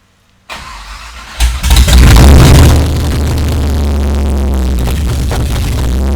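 A Chevelle's engine cranks briefly, then catches and fires up with a loud roar before settling into a steady, rumbling idle close by.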